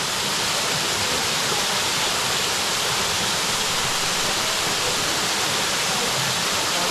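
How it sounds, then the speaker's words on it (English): Cascade Falls in the Northern Territory pours in a steady, loud, broadband rush of falling water, close and unbroken throughout, with no voices. "Sitting under those waterfalls."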